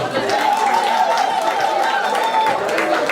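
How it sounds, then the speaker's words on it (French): Audience applause at a Women's Day event in Lausanne, a dense steady wash of clapping with crowd murmur and a tonal hum running through, loud and continuous for the whole stretch. "Est-ce que nous pouvons l'applaudir?"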